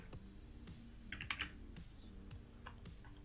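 Soft, quick keystrokes on a computer keyboard tapping in an uneven rhythm while coding, quiet and close, with no voices.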